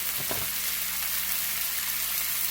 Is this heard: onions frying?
yes